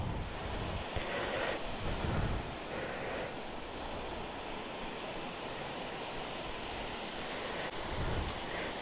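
Water rushes steadily at Rapur waterfalls in a forest, a continuous dense roar close to the microphone with gusts of wind noise, no talking.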